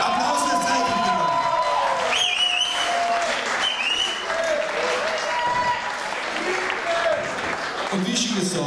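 Concert crowd applauding after a band's set: sustained loud clapping mixed with whoops, shouts and cheering from many people, with voices calling out over the noise.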